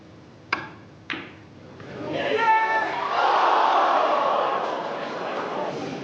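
A snooker crowd erupts after a missed shot, following two sharp clicks. A loud, sustained roar of cheering and shouting from the far hall swells and then holds steady.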